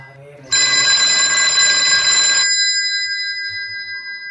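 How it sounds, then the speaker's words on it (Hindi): An old-style telephone bell rings in one loud, steady burst of about two seconds, then fades, with faint voices afterward. "कौन फोन करता रे"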